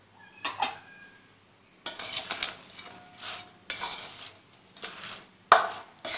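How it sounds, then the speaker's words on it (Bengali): Spices and fried salt being stirred and mixed by hand into mango pickle, giving intermittent scraping and clinking bursts separated by quiet gaps, close and moderately loud. "সব মশলাগুলোই আমার মোটামুটি মাখানো হয়ে গেল"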